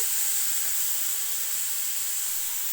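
Green chili paste sizzles and fries in a hot pan, a steady bright hiss with no pauses, close and moderately loud.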